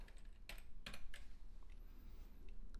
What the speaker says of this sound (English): Let's just type that in.